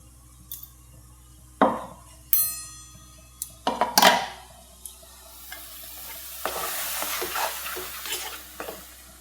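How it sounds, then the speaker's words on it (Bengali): Blended mango pulp cooks in a kadai, with sharp clanks of a spoon against the metal wok and stirring scrapes, followed by a soft bubbling sizzle under irregular knocks. "এই আমটা পুরোটা দিয়ে দিচ্ছি কড়াইতে।"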